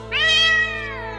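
A little kitty cat gives a single drawn-out meow, close and loud, rising and then tailing off slowly, heard alone without any talking.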